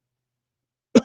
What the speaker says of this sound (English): Just start coughing.